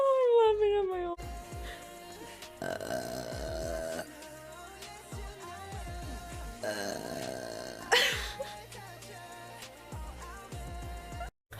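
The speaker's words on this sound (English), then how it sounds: "Hot burps." Several loud, rumbling burps from a woman come one after another, with short gaps between them and faint background sound underneath.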